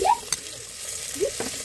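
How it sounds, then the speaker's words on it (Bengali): Cauliflower coated in pav bhaji masala is stirred in a pan with a couple of scraping strokes over a faint, steady sizzle, close by and with no voices. "মশলা দেওয়ার পরে ওতে ফুলকপিগুলো নিয়ে হালকা নেড়ে চেড়ে নেব।"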